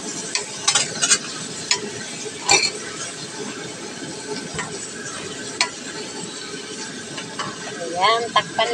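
Garlic and onion frying in a pan, a steady sizzle broken by clinks and scrapes of a utensil stirring, with brief voice-like bits near the end.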